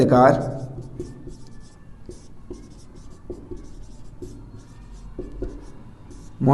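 A teacher writes on a board during a Hindi lecture on fundamental rights, with steady scratchy strokes and light taps running throughout and brief talk at the start and end.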